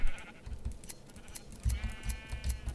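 Sheep in the Minecraft video game bleat several times in quick succession, short nasal calls repeating in a rough rhythm at moderate volume with nothing else around them.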